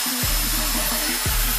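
KPT marble cutter running after an armature fan repair, its electric motor giving a steady loud whine close up, with two brief dips in speed, no talking.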